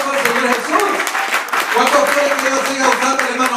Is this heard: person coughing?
no